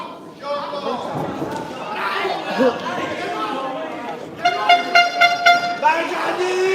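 A small toy trumpet toots several times in quick succession among spectators at a regional elite final, bright bursts near the end over lively crowd chatter and shouting.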